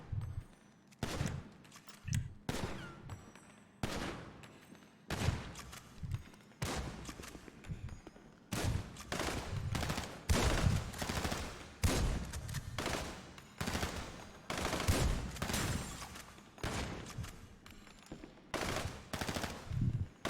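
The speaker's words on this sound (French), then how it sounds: "je vais aller faire un entraînement tir à l'elimination" Video game gunfire during elimination shooting practice, repeated bursts of automatic fire separated by short pauses, loud and close, continuing throughout.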